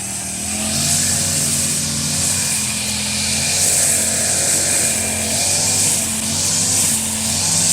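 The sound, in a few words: chainsaw engine running and choking out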